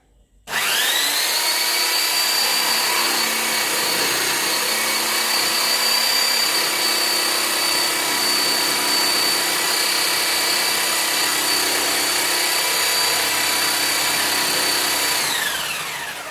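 Parkside PSTD 800 B2 jigsaw cutting along a drawn line: a loud, steady, high-pitched motorized buzz that starts abruptly and runs continuously for about fifteen seconds before winding down, near and alone.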